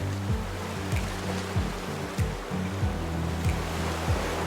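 Ocean waves breaking on a beach during a horse ride, a steady close wash of surf with repeated low rushing surges, heavy wind-like noise throughout and no talk.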